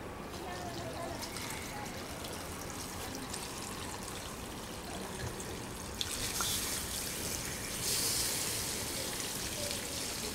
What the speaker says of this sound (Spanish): Le echas agua. A ver, échale. Un poquito más abre.